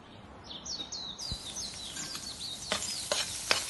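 Tomatoes go into a hot pan for samosa paratha fillings and are stirred, giving soft sizzling with scraping spoon clicks and a few bright squeaky chirps, all faint and close.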